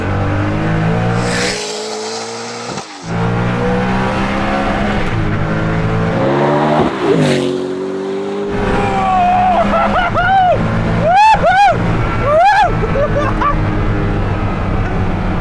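Hennessey Venom F5 hypercar roaring through a second-gear roll-on, its engine note climbing hard and loud from inside the cabin, followed by quick sharp revving bursts and rising pitch sweeps.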